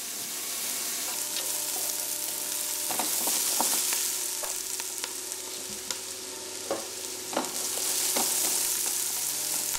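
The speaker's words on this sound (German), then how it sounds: "Im Bratsatz rösten Karotten und Selleriewürfel zusammen mit Zwiebeln." Diced carrots, celery and onions roast in meat drippings in a pan, giving a steady close sizzle and frying crackle with occasional stirring scrapes, no voices over it.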